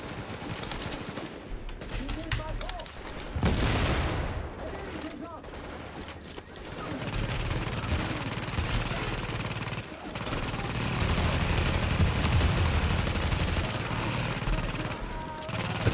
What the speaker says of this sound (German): Hat der gerade eine Granate geschossen?